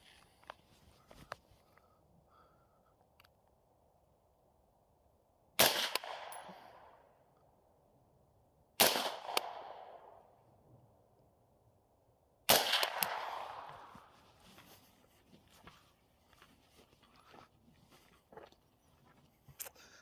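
Three suppressed AR-15 rifle shots fired while zeroing at an outdoor range: each a sharp, loud crack followed by a short echoing tail, spaced a few seconds apart against a faint background of small ticks and rustles.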